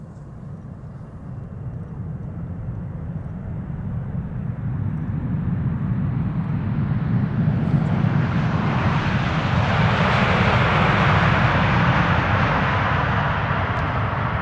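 A KLM airliner lands without reverse thrust in poor weather, a steady broadband jet roar that builds and swells over about ten seconds as the aircraft passes close, then holds loud.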